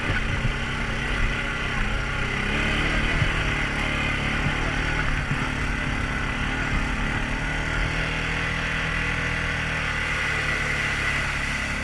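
A Honda off-road vehicle's engine runs steadily throughout a ride, a continuous close mechanical drone with wind and rattling over rough ground and no clear revving peaks.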